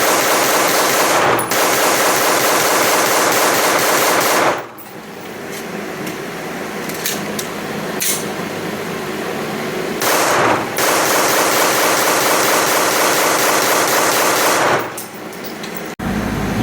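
A MAC 9DS submachine gun fired in long, sustained full-auto bursts while working through magazines during a 1,000-round test, loud and continuous with short breaks between strings of fire.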